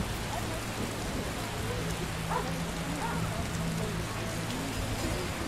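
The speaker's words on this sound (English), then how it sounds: "Hasn't rained hard in a while." Steady rain patters in The Witcher Enhanced Edition, a dense, even hiss of falling drops that continues throughout with no voices.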